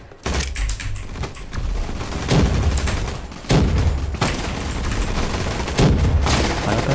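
Rapid gunfire bursts in the Roblox game Gunfight Arena, loud and dense with repeated shots and brief pauses between volleys, alongside faint keyboard clicks.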